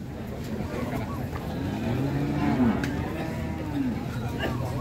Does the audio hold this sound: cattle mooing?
yes